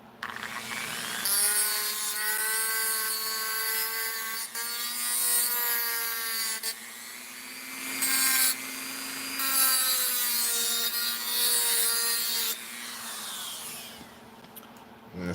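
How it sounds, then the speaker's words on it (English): A small part for a diecast diorama being ground down with a rotary tool, a loud sustained whine that rises and falls in long passes and stops briefly between them. "I'm gonna grind this down just a little more."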